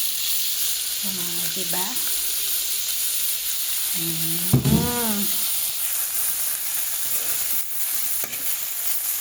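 Spring roll filling vegetables sizzle steadily in a frying pan, a continuous hiss running under two brief spoken phrases, with a louder stir or clatter partway through.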